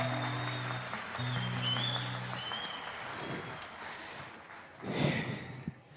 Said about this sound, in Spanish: El aplauso para Juancito Velázquez en la primera guitarra esta noche